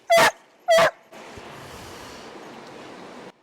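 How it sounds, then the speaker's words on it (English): A puppy on its first tent camping trip gives two sharp, loud barks close by, then falls quiet under a steady broadband hiss. "So River is a really verbal dog."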